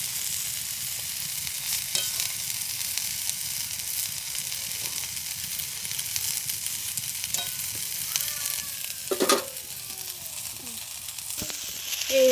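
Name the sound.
eggplant slices frying in a pan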